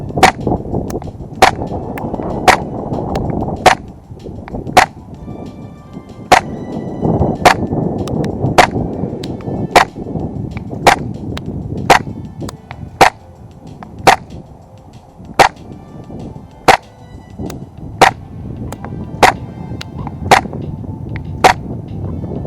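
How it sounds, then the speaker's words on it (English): A Tokyo Marui 4.3 Hi-Capa airsoft pistol fires BBs at a 30-metre target outdoors, sharp single cracks spaced about a second apart across a long steady string, over a constant low background rumble. "The BBs are firing nicely, to be honest."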